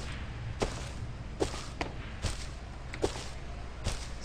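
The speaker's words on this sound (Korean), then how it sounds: "어, 총소리, 총소리, 총소리." Several sharp, cracking gunshots in the survival game Rust ring out at irregular intervals, each a sudden burst over a steady low rumble of game ambience.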